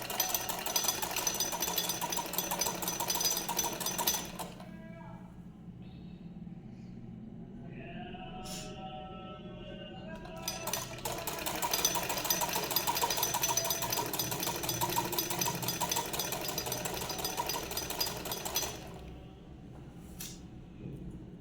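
A sewing machine stitches a shirt hem in two steady runs, about four seconds and then about eight seconds long, with a quiet pause between them. The motor whirs close and fairly loud, and no one talks.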